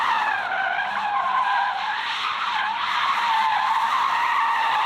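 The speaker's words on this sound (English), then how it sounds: "So engine revving, some donut making features." Hyundai Ioniq 5 N spinning donuts, its tires skidding in a continuous loud squeal that wavers in pitch for several seconds, near and steady, with no voices.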